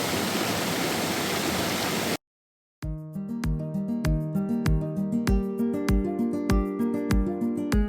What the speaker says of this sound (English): So we've made it down, that's the falls.